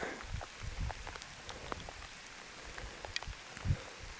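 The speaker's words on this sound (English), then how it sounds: "It's really raining down bad." Heavy rain falls steadily outdoors in a wooded Minnesota ghost town, a dense hiss of drops pattering on leaves and surfaces, with a few louder nearby splats and low thumps, and no voices.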